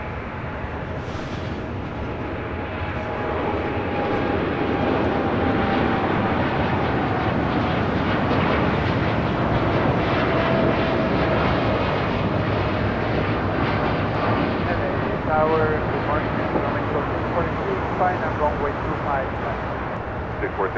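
Airliner jet engines at LAX, including an American 777 bound for runway 25 right, a loud sustained roar that swells and holds for the whole stretch, with radio chatter faintly beneath.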